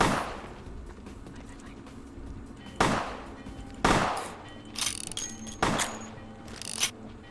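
Gunfire in the game Vampire the Masquerade Bloodlines 2: several separate sharp shots spaced a second or so apart, fairly loud over a low background, with a few smaller metallic clicks between them.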